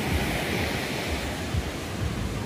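Strong waves at a surfing beach in San Juan, La Union, a dense unbroken roar of surf with wind buffeting the microphone and low thumps of breaking water throughout.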